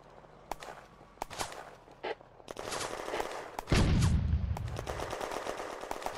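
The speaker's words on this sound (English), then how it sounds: "Sergeant Bachelet's section comes under machine gun fire from the north." Machine gun fire rattles in the Firefight video game during a May 1940 French defense of Hill 112, with scattered shots giving way to a loud, sustained burst of automatic fire in the second half.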